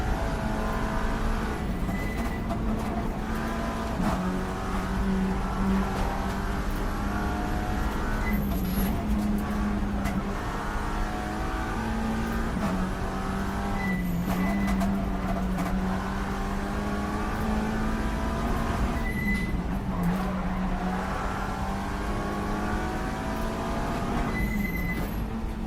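Race car in an NLS 3-hour series event, its engine droning steadily close by with repeated rising and falling pitch as it shifts and accelerates through laps, running under a constant roar without talk.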